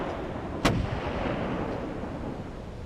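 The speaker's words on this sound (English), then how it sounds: "Gunshots." A single sharp gunshot sound effect in an audiobook cracks loudly once early on, then fades into a steady, noisy background hiss.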